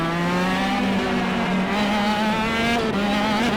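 A KZ2 racing kart engine in the KartKraft video game drones steadily at high revs, loud and continuous, with slight pitch shifts as the throttle changes and no talking.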